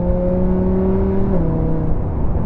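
A Lamborghini Huracan LP580-2 with a naturally aspirated V10 holds a loud, steady, tonal engine drone at close range, with a slight pitch drop midway through the short stretch.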